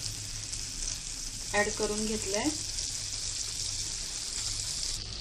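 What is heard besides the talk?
butter sizzling on hot griddle (tava)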